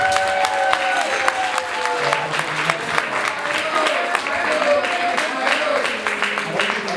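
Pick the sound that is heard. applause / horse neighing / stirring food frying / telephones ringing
applause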